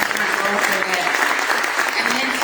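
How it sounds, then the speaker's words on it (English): An audience at a civic event gives a round of applause, dense steady clapping with voices talking over it. "I think that deserves a round of applause."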